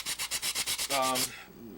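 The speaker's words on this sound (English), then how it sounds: "let's get a little hand sanding action in here" Rapid rhythmic scraping of sandpaper rubbed back and forth by hand over sharp metal edges of an SKS rifle bolt, about ten quick strokes, then a longer drawn stroke and quiet.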